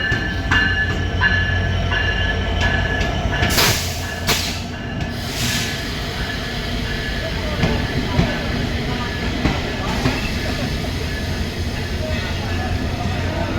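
The Nilsagar Express, an intercity train from Chilahati to Dhaka, rumbles past hauled by American-built locomotive 6639, loud and close in Saidpur with steady wheel clatter, some squeals and voices talking near the track.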